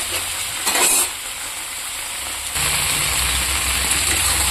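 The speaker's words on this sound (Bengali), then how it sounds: "সবজিটা ভাজা হয়ে গেছে" Vegetables sizzle loudly in a hot pan with a constant hiss. Brief stirring bursts come early, then a lower rumble joins partway through.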